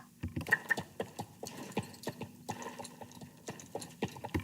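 Video game horse walking on a road, hooves clopping in a steady, fairly quick pattern of soft close thuds with no other sound.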